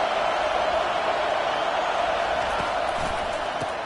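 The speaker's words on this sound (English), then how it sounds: "Listen to this crowd just shaking the girders of this place," A Texas A&M football stadium crowd roaring in a dense, steady wall of cheering that fills the space, loud and continuous with no single voices standing out.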